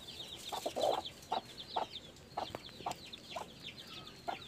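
A mother hen with newly hatched chicks in a farm coop: soft, close clucks repeat at roughly half-second intervals, threaded with thin high peeping chirps.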